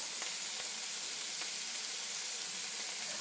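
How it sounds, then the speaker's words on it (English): Pork chops searing in a skillet, a steady close hissing sizzle with a few faint pops, constant and even throughout the short stretch, no voices. "we're going to sear the sides"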